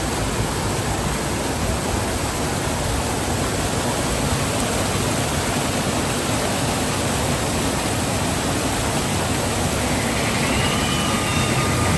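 Steady broadband rush of the Disneyland waterfall, a dense, even roar that holds at the same loudness for the whole stretch with no voices over it.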